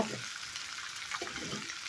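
Spices and mustard fry in a pan for jackfruit pickle, making a close, continuous hissing sizzle with a couple of faint stirring scrapes partway through.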